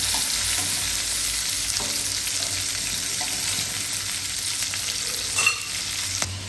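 A large fish fries in hot oil until reddish for a Bengali fish curry, giving a constant loud crackling sizzle close up, with occasional light stirring clinks and no speech.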